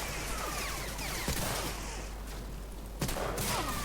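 Gunfire in the World War II shooter Medal of Honor: Allied Assault Breakthrough multiplayer, a few sharp distant-sounding shots at about 1.3 and 3 seconds over a steady background hum of battle ambience.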